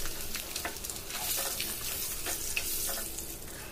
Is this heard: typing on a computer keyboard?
no